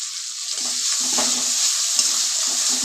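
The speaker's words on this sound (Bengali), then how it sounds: "আর ভালোভাবে কষিয়ে নেব, বারবার নাড়াচাড়া করে দেব।" Spice paste with turmeric and salt sizzles in a pan during a Bengali fish curry, with a steady bright frying hiss and soft intermittent scraping as the mixture is stirred, close and continuous.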